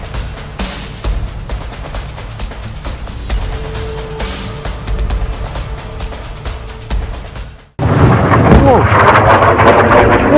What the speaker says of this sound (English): appear to show a missile strike in Dimona, in southern Israel